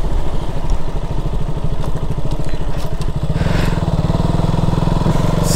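A motorcycle less than a month old runs close by, its engine putting out a steady rhythmic thumping throb that grows fuller and louder partway through, with no voices.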